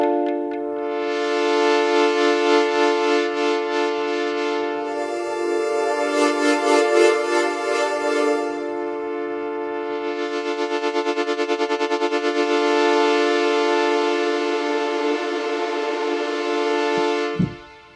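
A sustained buzzy synthesizer tone from a Moog-style patch played on a MIDI controller holds for several seconds, its timbre swelling, pulsing and filtering as it is shaped, then cuts off abruptly.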